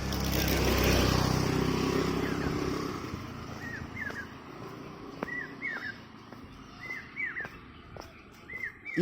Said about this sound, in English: You can hear the birds singing and chirping.